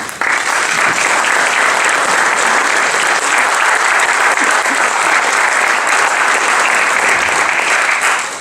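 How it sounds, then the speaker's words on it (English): Sustained applause from an audience at a York College Athletic Hall of Fame induction ceremony, steady and loud throughout with no break. "Please join me in a round of applause."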